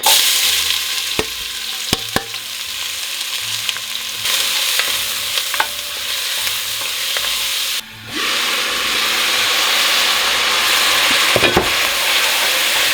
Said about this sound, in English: Cooking the onion and the garlic for just a couple minutes.